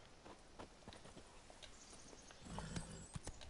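Roach the horse in The Witcher 3 clip-clopping along at a walk, an irregular run of hoof knocks that grows denser and louder toward the end, with no voices.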